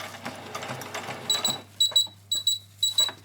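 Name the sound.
sewing machine making its usual noise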